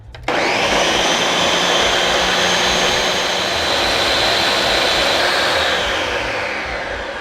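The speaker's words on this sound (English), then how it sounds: "So we're gonna turn on our blender." Kitchen blender pureeing lentils and cashews in vegetable stock, a loud constant motor roar that starts abruptly and runs steadily throughout without pause.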